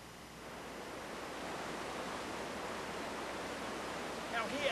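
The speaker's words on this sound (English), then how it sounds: "away from the main rush of water gushing out of the rock up there" A strong rush of water gushing out of rock outdoors, a dense, steady roar that stays loud and continuous throughout.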